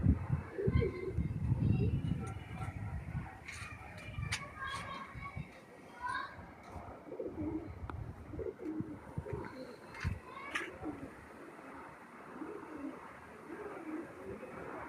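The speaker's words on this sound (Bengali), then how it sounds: "এই যে চলছে কবুতর, এখানে 48টা কবুতর আছে টোটাল।" A flock of 48 Madrasi pigeons at a pigeon flying show in Bangladesh, coos and bird calls mixing with children playing and people talking nearby, busy at first and then thinning out.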